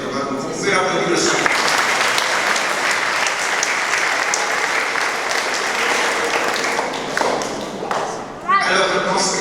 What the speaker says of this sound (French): on vous applaudit quand même